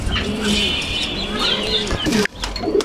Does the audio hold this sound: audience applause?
no